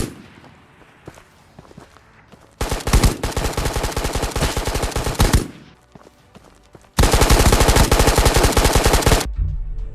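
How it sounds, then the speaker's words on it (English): Automatic machine gun fire in the Ghosts of Tabor video game rattles in two long sustained bursts, loud and close, separated by a brief lull with scattered softer sounds. "I heard gunshots, so I went to engage with the fight"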